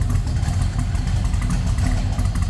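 A 1972 Chevrolet Chevelle's stroked 5.7-liter V8 idles steadily up close from the rear with a deep, rumbling, low, lumpy throb and no voices.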